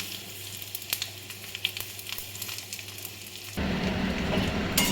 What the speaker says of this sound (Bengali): দারচিনি, আর তোমার এই ছোটো এলাচ দুটো ফাটিয়ে নিয়েছি। ফোড়নটা দিয়ে দিলাম।